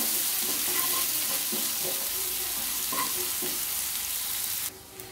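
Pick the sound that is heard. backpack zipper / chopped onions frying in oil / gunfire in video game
chopped onions frying in oil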